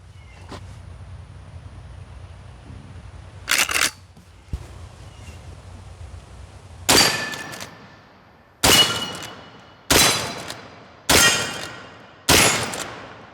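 A Smith & Wesson 1854 lever-action gun fires outdoors, with a few scattered loud shots that settle into a regular sequence of sharp reports, each ringing off in a decaying echo, and no talking.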